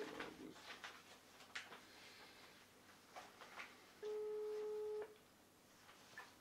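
A phone call rings out in a local council meeting room in Scorțeni, heard as a single steady electronic tone lasting about a second, faint under general room noise and murmuring.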